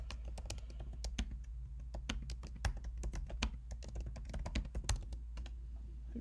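Computer keyboard typing in a quiet room, a steady run of crisp close keystrokes in quick uneven bursts over a low hum, no voices.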